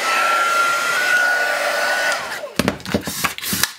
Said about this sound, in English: A hairdryer or low temp heat gun, just hit the back for a few seconds